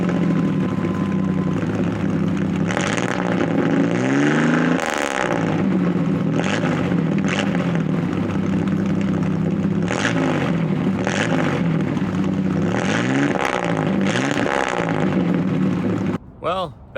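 An autocross car with its muffler fitted idles steadily with a deep, throbbing exhaust drone, several sharp revs rising and falling above it, loud and close.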